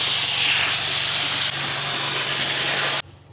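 A can of DIY spray foam sprays onto a shed in a steady, loud, close hiss, easing slightly partway through and cutting off sharply near the end, leaving quiet background.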